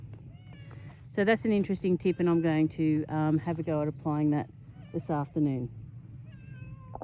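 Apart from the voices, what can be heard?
cat meowing with a caught mouse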